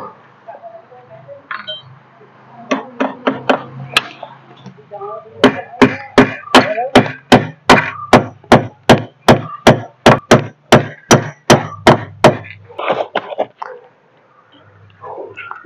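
Steel nails are hammered into concrete during masonry work with a long run of sharp, evenly spaced metallic strikes, close and loud, with a few irregular taps before and after and some brief talk in between.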